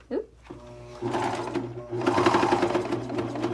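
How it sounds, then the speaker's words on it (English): A Viking Amber Air sewing machine stitching two layers of white terry fabric, its steady mechanical whir starting, pausing briefly and then running faster with a rapid needle rhythm, heard up close. "I'm going to stitch away"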